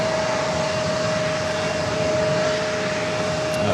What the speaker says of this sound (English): So it would be a 737 MAX 8 coming up from Mexico City, flight 402.